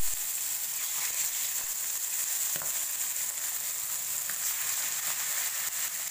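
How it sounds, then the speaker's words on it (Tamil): Fish pieces for Tamil Nadu style fish biryani frying in hot oil in a pan, a steady close crackling sizzle throughout with occasional faint clicks, no voices. "அந்த மீன் பீசஸ் எல்லாத்தையும் போட்டு பொரிச்சு எடுத்துக்கலாம்"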